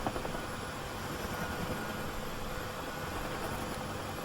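Helicopter engine in the DCS flight simulator, a steady droning whir with broad rushing noise, held at a constant fairly quiet level throughout with no talking.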